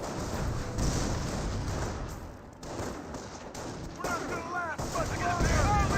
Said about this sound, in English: Grenadiers do throw out a pair of stun grenades there.